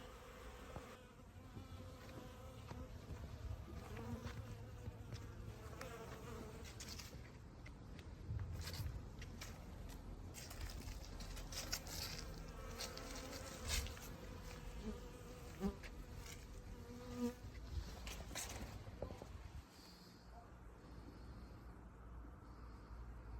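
Honeybees buzzing steadily through a cleansing flight on an abnormally warm January day in Dnipropetrovsk oblast, Ukraine, a dense continuous hum of many insects close by, dropping slightly quieter near the end.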